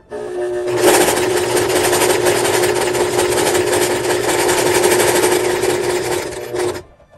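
A sewing machine stitches a glasses case in one loud, steady, unbroken run of rapid needle chatter lasting several seconds, then stops abruptly.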